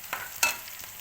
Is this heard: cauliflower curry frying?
yes